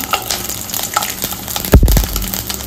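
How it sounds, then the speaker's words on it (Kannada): Whole spices, cinnamon, cloves and fennel seeds, and garlic cloves hit hot oil with a sudden loud sizzle that crackles on, after a quieter stretch of light clatter. "ಈಗ ಫಸ್ಟಿಗೆ ಇಲ್ಲಿ ಎಣ್ಣೆ ಬಿಸಿ ಆಗಿದೆ. ಇದಕ್ಕೆ ಸ್ವಲ್ಪ ಚಕ್ಕೆ, ಫ್ಲವರು ಮತ್ತೆ ಸೋಂಪು ಕಾಳು ಇದಿಷ್ಟು ಹಾಕೊಂಡಿದ್ದೇನೆ."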